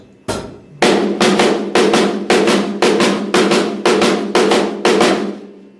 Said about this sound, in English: rim shots on the first and third note of the triplet, and leave out the second note